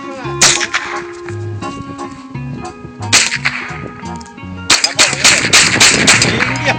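Sharp cracks from a Remington 597 .22LR rifle fitted with a Bushnell scope, several shots fired at an outdoor target in uneven bursts, with a steady background hum beneath and a dense cluster of reports near the end.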